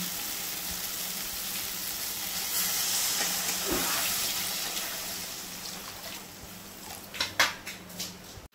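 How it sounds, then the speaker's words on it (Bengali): Gravy is poured into a pan of simmering vegetarian dhokar dalna, lentil cakes in curry, producing a steady close hiss and bubbling sizzle that swells midway, then a few clinks of a utensil near the end. "এখন আমি ঝোল দিয়ে দিচ্ছি।"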